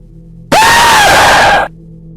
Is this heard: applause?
no